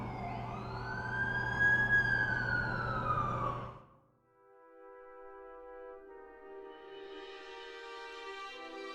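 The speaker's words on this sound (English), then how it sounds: "That's the ambulance I called." An ambulance siren wails loudly in The Amazing Spider-Man 2 video game, its sweeping tone cutting off after about four seconds and giving way to a soft, sustained musical drone.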